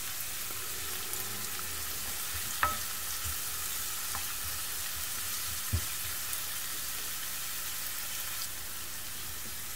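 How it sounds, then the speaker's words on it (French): Onions simmer in a frying pan, giving a steady soft sizzle throughout with a couple of faint taps and stirring sounds, close and with no talk. "je verse mes oignons dans la poêle. Et je laisse mijoter pendant 3 à 4 minutes."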